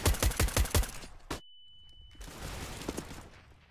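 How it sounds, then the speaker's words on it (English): Rapid gunfire rattles in a Counter-Strike: Global Offensive competitive match, a quick burst of close, loud shots, then a sudden cut to near silence with a thin steady tone, before quieter in-game rumble and scattered fainter impacts return. "Shots fired."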